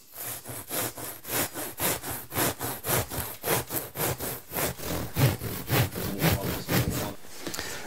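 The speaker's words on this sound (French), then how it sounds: "ce que je peux faire, c'est poser la règle et appuyer la lame de couteau contre la règle" A knife blade drawn along a ruler slices through roof insulation in steady back-and-forth strokes, about three per second, close and fairly loud with no talking.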